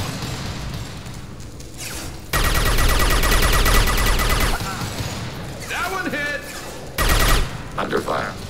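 Rapid automatic gunfire rattles in dense bursts during a mercenary attack in Mass Effect 2, with a long sustained volley, sharp whooshing effects and further bursts of shots amid battle noise, while voices speak briefly.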